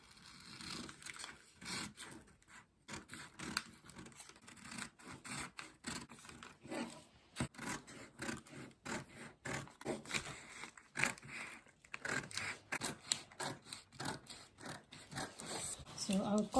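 Scissors cut through a drafted paper bustier pattern, giving repeated close crisp snips and slides with a soft scraping of paper, fairly quiet, with some talk in between.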